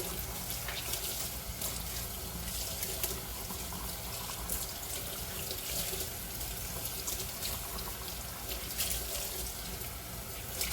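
Water runs steadily from a tap while a mustard-stained shirt is rinsed under it, a constant hissing splash with no pauses.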